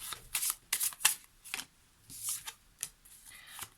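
Oracle cards are shuffled by hand in a series of quick, crisp riffling bursts with short gaps between them, close and fairly quiet with no talking.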